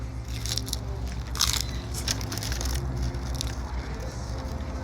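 Crunchy bites into a taco topped with guacamole, a few crackling crunches close to the mic over steady low background hum, no talking.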